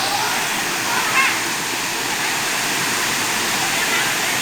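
Huai Mae Khamin waterfall in a forest in Kanchanaburi, Thailand, a steady, loud broadband rush of falling water that continues without a break.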